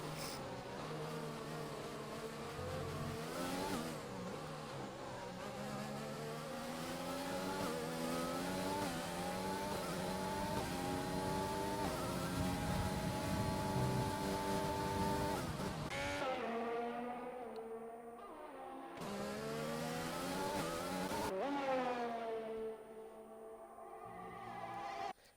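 Race cars lapping a track in a sim racing game, high-pitched engines whining and shifting as several cars pass close, with brief quieter gaps between passes.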